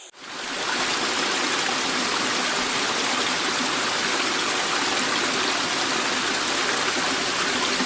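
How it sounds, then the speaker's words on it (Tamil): Vattakanal waterfall near Kodaikanal pours in a dense, continuous roar of rushing water, loud and close, with no other sounds over it. "அப்படியே பார்த்தீங்கன்னா அருவி வந்துட்டு இப்படி செம்மையாக ஊற்றுது."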